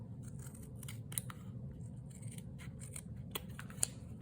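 Scissors snip through thin chipboard cut from a cardboard box, a run of quiet crisp clicks and slices over low background hum, with sharper snips near the end.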